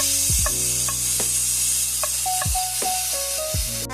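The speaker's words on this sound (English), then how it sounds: "After 2 minutes, you want to add in your minced garlic. Let that saute for 1 minute." Minced garlic sautés in a pan with a steady hiss of sizzling, broken by a few sharp clinks and scrapes of a utensil stirring against the pan, close and alone with no voices.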